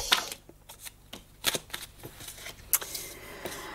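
Tarot cards are shuffled by hand for a reading, close up, in a quick series of riffling flicks and soft slaps over about four seconds, with no talking.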